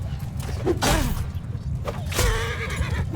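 Horses whinny in the Mount & Blade II Bannerlord video game during a mounted battle. Two loud neighs come about a second apart, with faint hoof thuds and a swish of motion beneath.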